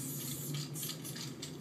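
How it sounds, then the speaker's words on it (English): An aerosol can hisses steadily and close up as an artist spray paints a mural on a vacant outdoor wall in a downtown square, the spray pulsing slightly in short bursts. "Artist David Lebo Levitard is spray painting a mural called Bebop into Outer Space on vacant space on Young Circle in downtown Hollywood"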